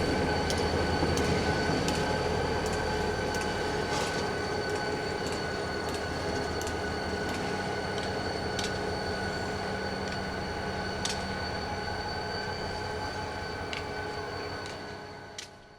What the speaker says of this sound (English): Today, she's paired up with EMD SD40-2M number 3200 from sister railroad Texas Northeastern.